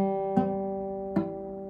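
Acoustic guitar with a finger accidentally touching string 1, heard as two plucked strums over a sustained chord, with one string dulled and choked, close and quiet with no talking.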